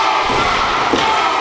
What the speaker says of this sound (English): Crowd going for Jason V into the ropes